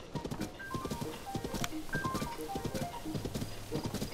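Horse hooves clip-clopping in a rhythmic, moderately loud trot in the video game The Legend of Zelda: Tears of the Kingdom, with light game tones sounding over the steady beat.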